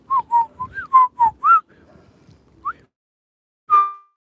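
A person gives a series of short, pitched whistles to call dogs across open land, about six quick notes in a row, then a pause and a single sharper whistle, clear and close with no talking.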